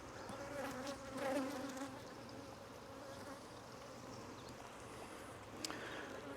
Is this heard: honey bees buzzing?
yes